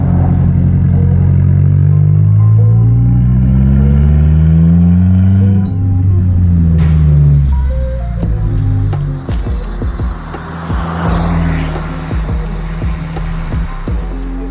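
A modified Stage 2 Suzuki Swift with a 1.3 DDIS diesel engine driven hard, its engine tone rising and falling loudly through the run, with clattering and road noise toward the end.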